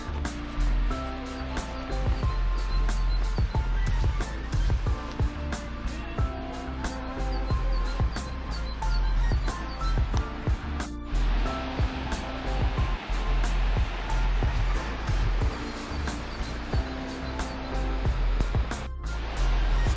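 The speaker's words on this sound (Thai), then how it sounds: "ไปที่น้ำตกนะคะ" Steindalsfossen waterfall in Norway on a cool, cloudy day, its rushing water a steady, loud broadband roar throughout with faint bird chirps above.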